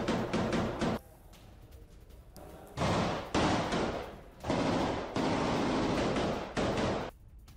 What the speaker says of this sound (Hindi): जहां पर IDF के जवान सर्च ऑपरेशन करते हुए गोलियां बरसाते नजर आ रहे हैं